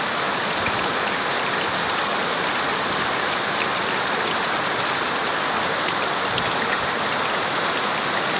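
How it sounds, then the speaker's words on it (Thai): Heavy rain pours down at home in a dense, continuous hiss of drops striking surfaces, loud and unbroken, with steady splashing and no voices. "ที่บ้านฝนตกแรงมากนะคะนานเป็นชั่วโมงแล้วค่ะ"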